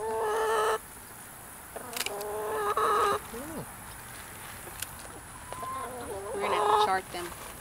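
A hen clucks and squawks in agitated bursts while her wings are being clipped, with people talking nearby between the calls.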